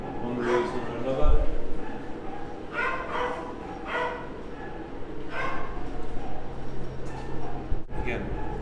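Dogs in intensive care at the Soi Dog Foundation shelter in Phuket, with repeated yips and whimpering barks at close range, heard under someone talking steadily.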